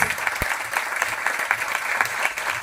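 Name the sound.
audience applause for newly elected members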